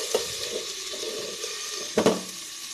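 Mushroom masala fries in a covered pan over medium heat, giving a steady low hiss with a few soft clinks and bubbling pops, one louder clatter near the end.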